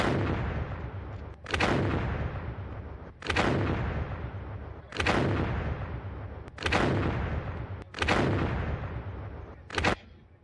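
Naval guns fire from ships in a simulated shore bombardment at a defence expo demonstration, six heavy booms spaced about every one and a half seconds, each with a long rolling decay.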